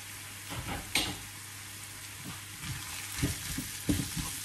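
Diced red and green peppers sautéing with onion in a pan for Turkish bulgur: a steady close sizzle with occasional louder crackles and scraping stirs, no voices.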